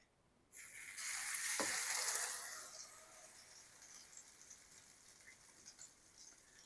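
French toast (egg-dunked bread) hits a hot griddle with a sudden bright sizzle that swells for about two seconds, then settles into a steady, softer crackling frying hiss, close up with no talking.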